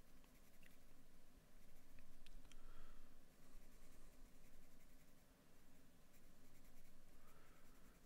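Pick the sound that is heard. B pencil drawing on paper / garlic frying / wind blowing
B pencil drawing on paper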